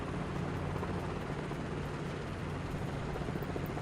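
Robinson R22 helicopter landing in gusty wind, a loud steady rotor and engine drone with rapid blade chop and wind rumble throughout, heard close from the cabin.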